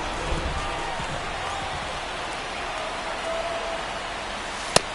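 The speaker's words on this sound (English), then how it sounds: "This rain is not letting up." Steady rain hisses across a ballpark in the baseball video game The Show 24, a continuous broadband wash with a single sharp knock near the end.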